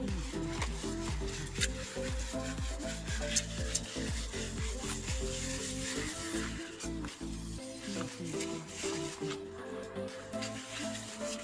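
Quiet, rhythmic rubbing strokes of wet sandpaper scraping back and forth across a car's painted surface, close up and repeated with no speech.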